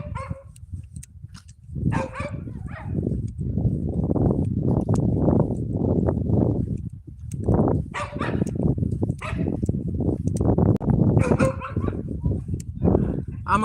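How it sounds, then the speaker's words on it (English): Dogs across a street bark in repeated bursts, fairly close and loud, while someone talks over them on a walk. "They're barking at me."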